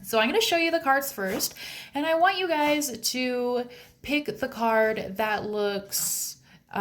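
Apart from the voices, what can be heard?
No everyday noise stands out behind the speech.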